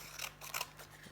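Scissors snip through paper in a craft card-making session, a quick series of crisp close cuts in steady rhythm with no talk.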